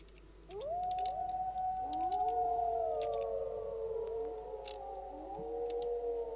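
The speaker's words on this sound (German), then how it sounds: "Ich höre Wölfe." Several wolves in The Universim let out long gliding howls that overlap in a chorus, rising then slowly falling, heard fairly clearly over a faint background.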